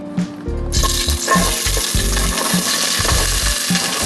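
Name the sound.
onion added to hot oil, sizzling and stirred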